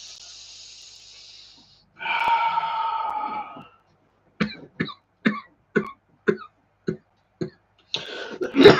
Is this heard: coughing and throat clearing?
yes